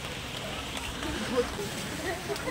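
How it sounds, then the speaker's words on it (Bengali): Heavy rain in Mahishadal, strong enough to soak people outdoors, comes through as a steady, dense hiss of drops with a few faint crackles and no clear speech. "এখানে প্রচন্ড বৃষ্টি, এখানে নয় সব জায়গায় হচ্ছে।"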